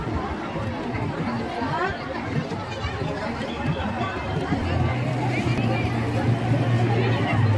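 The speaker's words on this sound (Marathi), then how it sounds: "खूप भयंकर गर्दी." A huge crowd mills about at a Shiv Mahapuran katha in Shirpur, a dense, steady babble of many voices with a low engine-like drone joining near the end.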